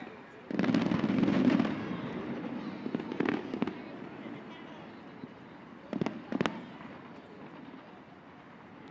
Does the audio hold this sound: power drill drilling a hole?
no